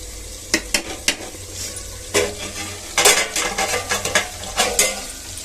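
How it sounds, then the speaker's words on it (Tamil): A spoon stirs one-pot biryani in a pot, giving scraping stirs and a few sharp clinks against the metal over a low sizzle, fairly close. "திரும்ப ஒருக்கா கிண்டி விட்டுட்டு அப்படியே மூடி வச்சிடலாம்."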